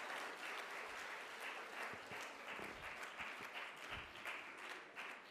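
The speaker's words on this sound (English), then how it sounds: "A round of applause for Master of Ceremonies." A debate competition audience gives a steady round of applause for the master of ceremonies, dense clapping filling the hall at moderate distance for several seconds, with no speech over it.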